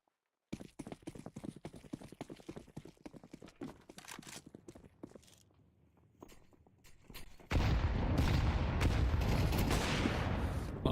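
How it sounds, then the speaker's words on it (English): Grenades burst in a Counter-Strike esports match, a thick stack landing together: a sustained, loud roar of overlapping blasts that sets in abruptly after a stretch of rapid gunfire and footstep-like clatter. "A lot of nades."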